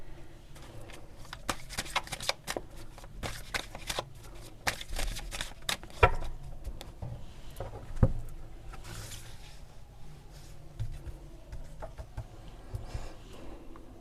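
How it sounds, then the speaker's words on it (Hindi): Tarot cards shuffled and drawn by hand: dense papery riffling and flicking with sharp slaps and card snaps, steady and close throughout, no voices. "5 कार्ड्स निकालूंगी पहले"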